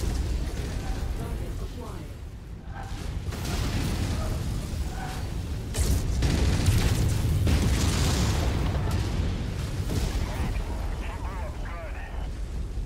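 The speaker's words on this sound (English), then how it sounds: "That's an ammo explosion." A mech's ammunition cooks off in a modded MechWarrior 5 battle, deep booming blasts and rumbling bursts layered over ongoing game combat noise, with people talking over the action.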